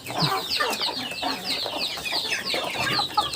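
Chickens, including small newly hatched chicks, cluck and chirp busily while pecking at feed, a dense overlapping chatter of close fowl calls with no talking.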